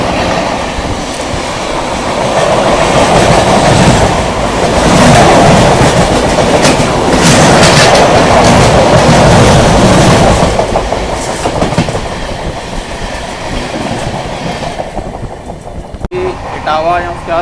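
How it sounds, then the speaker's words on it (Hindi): A Farakka Express train thunders past during a crossing on the Delhi–Prayagraj line, heard from aboard another train: a loud, sustained roar of wheels and clattering carriages that swells for about ten seconds, then thins out and fades. "ये भाई अपनी फरक्का एक्सप्रेस।"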